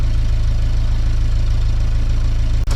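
The engine of a 1955 Willys CJ5 Jeep, fitted with a new exhaust and muffler, idles loudly and steadily with a low, even pulsing rumble, close by and alone.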